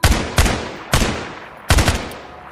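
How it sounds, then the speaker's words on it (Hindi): Three loud rifle shots from a sound effect, each a sharp crack with a decaying tail, spaced unevenly across a couple of seconds, with no voices. "हम सबकी राइफल में जितनी भी गोलियां लोडेड थी वो सब कुछ हमने उस हैवान पर चला दिया था"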